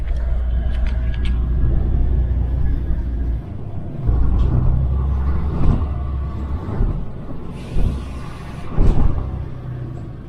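Interior ride on a Sanders Coaches X44 yellow bus leaving Norwich bus station: a loud, steady engine drone and road rumble that drops and swells as it pulls away, with a few knocks and rattles.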